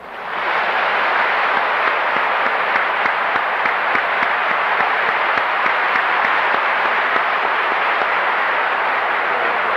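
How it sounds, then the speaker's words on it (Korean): A large congregation at a church service applauds to welcome a pastor to the stage, a thick sustained roar of clapping that swells in quickly and stays loud and even throughout. "이제 존 허스턴 목사님 나오실 때 여러분 박수로 맞이해 주시기 바랍니다"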